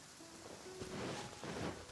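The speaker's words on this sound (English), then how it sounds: "It's raining." Rain falls in the video game Genshin Impact, a soft, steady patter of drops with faint swells of denser downpour, quiet and continuous.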